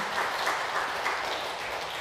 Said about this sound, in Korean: 우리 주님께 먼저 큰 박수 드리고